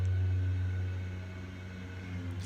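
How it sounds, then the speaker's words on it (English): A lawn mower cutting grass just outside a window, heard from indoors as a steady, low engine drone with a strong hum that holds for the whole stretch, no talking over it. "They're cutting the grass right outside my window, like right now."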